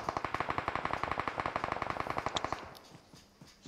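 Rapid machine gun fire in a mobile battle royale game, a steady burst of evenly spaced loud shots for about two and a half seconds, then stopping with faint game sounds after.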